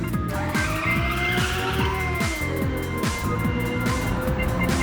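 In the racing game Ridge Racer Type 4, a car's engine revs up through repeated gear shifts while the tires squeal steadily through a drift, loud and continuous with no pause.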